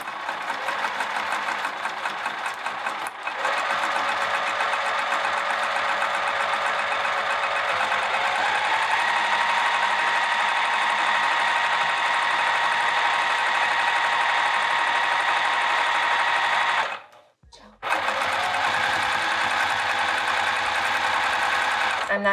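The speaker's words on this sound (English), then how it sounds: "let's sew down these edges before I lose it" Sewing machine stitching steadily along the edges of a vinyl handbag, a continuous close mechanical whir that runs almost without break, pausing briefly near the end before starting up again.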